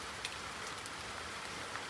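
Steady rain falls during a market outing to Tân Công Sính, making a faint, even hiss with scattered soft drop ticks and no voices.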